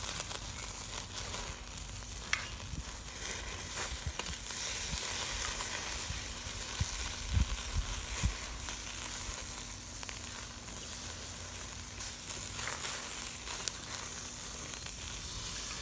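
Butter sizzles over charbroiled oysters on a Weber Smokey Joe grill, a soft, continuous hiss with scattered small crackles and pops, heard up close with no talking.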